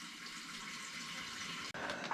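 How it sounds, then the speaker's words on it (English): Liquid splashing and rushing steadily while something is being filled during work on a car, a faint, continuous watery hiss with a brief break near the end. "It's splashing everywhere."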